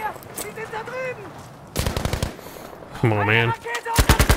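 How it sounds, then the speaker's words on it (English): Bursts of rapid automatic gunfire from soldiers in Battlefield V crackle in short volleys, some dense and close, others sparser, while someone talks over the action. "I hear my guy shooting at something."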